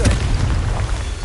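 A Confringo blasting spell explodes in Hogwarts Legacy on PS5, a loud, sustained booming rumble with heavy low-end that holds steady across the short moment.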